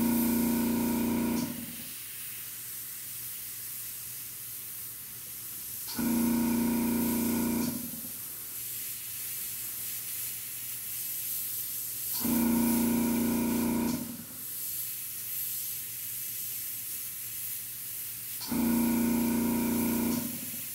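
A Gunze Mr Airbrush PS-770 sprays in four separate bursts of loud, steady hiss, each a couple of seconds long, with quieter compressor-like background noise between them.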